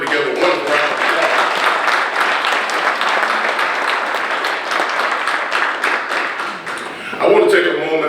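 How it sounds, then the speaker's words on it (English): Audience at a county meeting breaks into sustained applause, a dense wash of many hands clapping in a large room that continues for several seconds before swelling again near the end. "Let's give the city and the county working together one round of applause."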